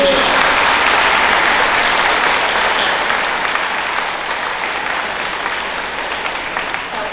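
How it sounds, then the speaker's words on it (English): Sustained applause from an audience at a 2023 high school faculty awards ceremony, a dense, even clapping that fills the room and tapers slightly over about seven seconds. "I first of all just want to give him a round of applause for being a great human and being here today."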